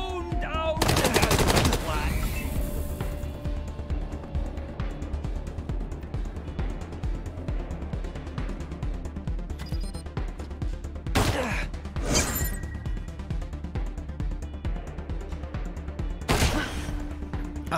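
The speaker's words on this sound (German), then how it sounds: "Wo kam denn der letzte Schuss noch her?" Gunfire from combat in the video game Wasteland 3, with a dense burst of loud shots near the start followed by several sharp single shots and short volleys later over a steady game soundscape.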